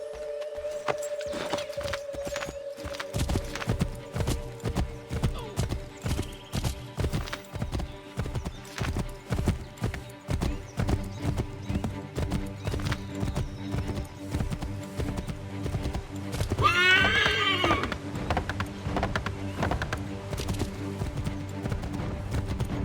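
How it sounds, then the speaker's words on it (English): A horse gallops in the video game Assassin's Creed 3, with loud, rhythmic hoofbeats running steadily throughout, joined partway through by a brief whinny and set against a low game soundtrack. "Take my horse! Bring him here!"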